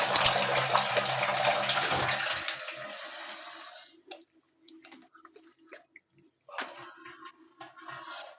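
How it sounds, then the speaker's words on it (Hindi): Beef for an Eid recipe rinsed under a running tap, a loud broadband water rush for about four seconds that cuts off, followed by scattered drips and a brief second burst of running water, with no talk. "इस गोश्त को आपने अच्छे तरीके से धो लेना। अच्छे तरीके से धो लिया।"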